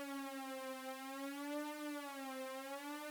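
A VCV Rack synthesizer oscillator under frequency modulation gives a continuous buzzy, siren-like tone whose pitch wavers up and down in quickening swoops, steady and fairly quiet, with no voices.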